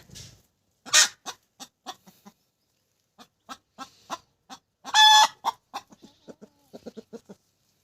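A hen clucks in a run of short, separate calls with brief pauses between them, close by, and one louder squawk partway through.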